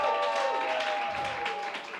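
An audience applauds as a comedian is introduced at a comedy panel, producing a dense, continuous clapping roar with a voice carrying over it.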